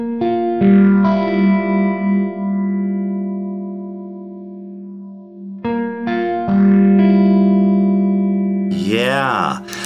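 Electric guitar plays a riff through chorus, distortion and echo effects, with sustained bent notes and ringing double stops, then a pause, a fresh strummed phrase and a swelling, modulated bend at the end.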